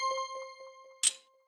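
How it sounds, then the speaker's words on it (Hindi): A household doorbell in Chacha Chaudhary's house chimes with clear ringing tones, followed by a short bright clang, all close and alone with no talking. "चाचा चौधरी के घर पर घंटी बजती है।"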